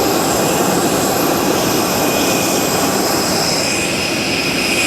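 Jet aircraft engines roar at an airport during outdoor boarding of an Aegean flight from Santorini, a loud, steady whine and rushing drone with a high tonal hum, close and continuous.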